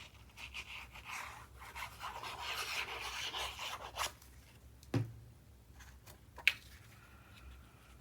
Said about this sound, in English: I'm going to burnish.